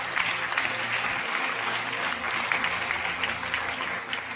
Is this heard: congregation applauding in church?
yes